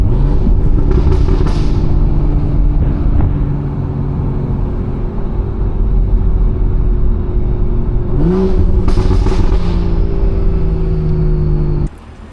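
A BMW with a B58 engine revs and pulls hard on a backroad drive. A loud, droning exhaust note holds steady, then climbs sharply in pitch as the engine builds revs again near the end.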